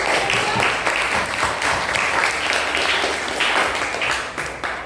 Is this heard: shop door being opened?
no